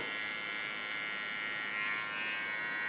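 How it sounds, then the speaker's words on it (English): An electric hair clipper buzzes steadily and close while cleaning up the hairline contour of a short women's haircut, a continuous high whir with no talk. "Before I go further, I clean the contour line. This I do with a clipper."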